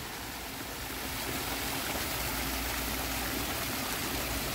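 Water flowing from a fountain in an outdoor flower garden in Canada, a steady, broadband rushing and splashing that holds evenly throughout without any voices.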